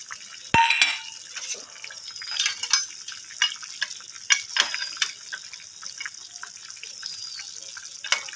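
Papaya stirred in a pan with lentil dumplings frying, soft sizzling and clattering scrapes in irregular bursts, quiet and close, with a sharp clink near the start.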